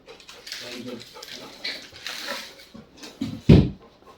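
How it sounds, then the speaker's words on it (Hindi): A dog gives a single loud bark near the end, after soft whimpers, with people talking gently over it indoors. "बेटा देखो भौंक रहा है"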